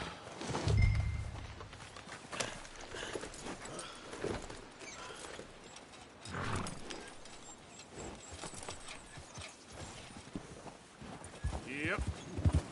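A horse in Red Dead Redemption 2 walks with irregular clip-clopping hooves at moderate distance, mixed with in-game ambience and occasional louder thuds, while someone talks over it.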